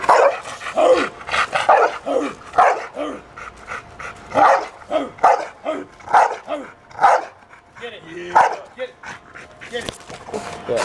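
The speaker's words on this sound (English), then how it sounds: "I got her barking in the shop." A dog in a shop barks repeatedly in short bursts with yips and whimpers, close and fairly loud, while people talk over and around the barking.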